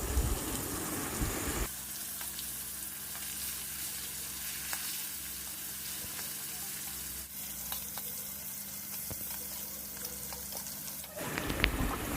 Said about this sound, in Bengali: আর এইদিকে কড়াই আমার যে মাছ ভাজতে দিয়েছিলাম মাছটাও ভাজা হয়ে গিয়েছে